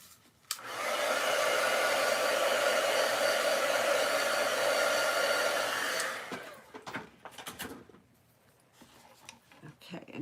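A heat tool blows a steady, loud, close whoosh for about five seconds, drying paint on a Christmas goose craft, then cuts off, leaving faint handling noises and light rustling.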